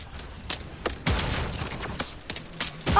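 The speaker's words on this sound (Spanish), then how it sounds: "Y ahora me están disparando." Sharp gunshots from someone firing at the player in a game, irregular bursts and single cracks spread across a few seconds, loud and close, with no voices.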